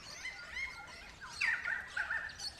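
Crimson rosella parrots call in a forest during breeding season, a series of bright whistled and chattering notes that swell louder in the second half and sound fairly close, with no talking.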